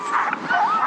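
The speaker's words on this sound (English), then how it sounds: "We got a loose dog." Sled dogs on a long dog-sledding trip yip, whine and whimper in high, wavering cries, close and loud through a short burst.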